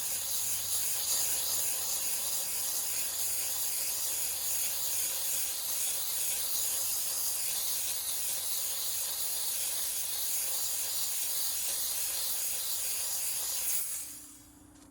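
Steam cleaner spraying carbon fiber wheel barrels on a Shelby GT350R or GT500 together with foaming wheel cleaner, outdoors: a steady, loud hiss running unbroken and close for about fourteen seconds, then cutting off abruptly near the end.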